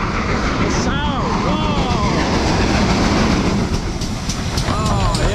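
A train rumbles past close by at Didcot Railway Centre, a dense roaring wash of rail noise with squealing wheel tones, while people exclaim excitedly over it.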